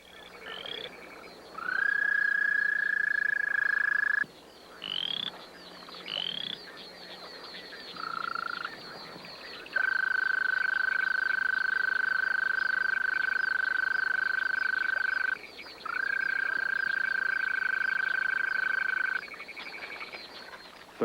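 A frog and toad mating chorus rings out in long sustained trilling croaks, several overlapping calls starting and stopping, loud and close with no other sounds.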